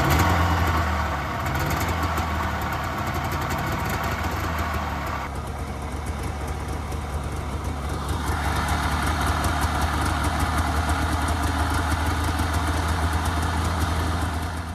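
A Polaris 500 Widetrack snowmobile engine runs at a choked idle, loud and close, with a steady, uneven throb that holds unbroken for the whole stretch.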